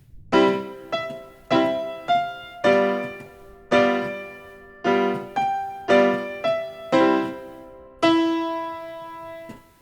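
Measures five to eight of the Arabesque's section A on solo piano: a steady series of bright struck chords and notes in an even rhythm, ending on a long sustained chord, played close and clean without speech.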